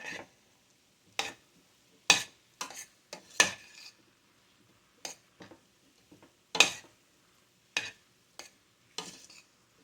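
A flour and fat roux is stirred in a pan for a German sauerbraten gravy, heard as a quiet, sparse series of sharp scraping and clinking strokes of a utensil, with near silence between them.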